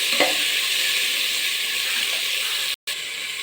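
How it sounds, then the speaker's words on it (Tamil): Chopped onions and green chillies sauté in a pan for biryani, a loud, steady close sizzle with faint stirring underneath and a brief dropout near the end. "போட்டுட்டு நல்லா வதக்கி விடணும்"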